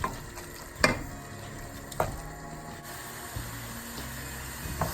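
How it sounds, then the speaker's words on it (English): Spinach and potatoes with garam masala frying on high heat in a pan, a soft continuous sizzle broken by a few sharp clinks and scrapes as the mixture is stirred, with no talking. "Mix it all up and just cook it on high heat"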